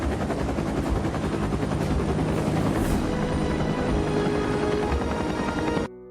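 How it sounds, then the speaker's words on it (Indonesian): Loud, continuous helicopter rotor noise with a heavy rapid thudding, close and unbroken until it cuts off abruptly at the end. "ia bersiap dan menaiki helikopter yang telah disiapkan"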